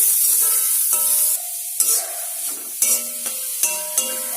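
Shredded cabbage sautéing in a pan: a steady, close sizzle with scraping stir strokes and soft clatter, over a sustained tonal hum.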